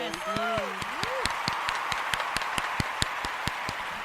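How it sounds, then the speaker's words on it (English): Steady applause from a crowd, dense clapping continuing throughout, with a brief voice at the start. "Let's give a round of applause for you."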